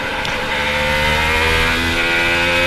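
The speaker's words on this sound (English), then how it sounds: "That's the sound of Charles Leclerc, tentatively making his way through turns 1 and 2" A Ferrari Formula 1 car drives through turns 1 and 2 during practice at the Spanish Grand Prix, a loud, continuous high-pitched engine howl that holds steady, heard alone.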